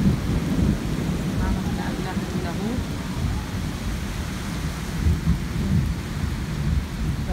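A thunderstorm over Berlin in the evening, with steady heavy rain and low rolling thunder rumbling throughout. It holds loud and continuous, with no words heard.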